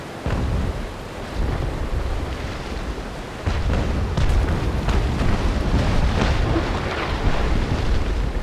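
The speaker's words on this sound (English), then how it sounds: "My ships are shooting that." Naval Action sea battle with ship cannons firing: a continuous roar of low booms and rumbling blasts under wind-like noise, growing denser partway through, with no voices.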